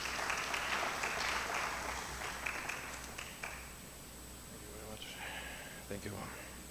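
A conference audience in Kampala gives a modest round of applause to welcome a speaker, fairly faint and fading over several seconds, followed by a few quiet sounds and a voice near the microphone.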